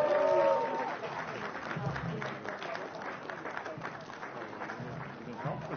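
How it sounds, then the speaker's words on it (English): Audience applause at the APCOM Hero Awards ceremony, a steady spread of clapping from the crowd that continues throughout, with a brief tone and some voices near the start. "A big round of applause once again."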